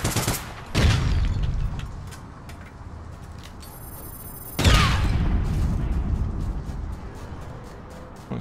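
Gunfire in the online shooter APB Reloaded, two loud close bursts that each fade into a lingering rumble, with a bright electronic ring between them and scattered lighter shots; no talking.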